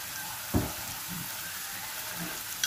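Potato pieces frying in a pan for a potol rosha dish, with a steady close sizzle, a stir or clatter at the start and a soft knock at the end.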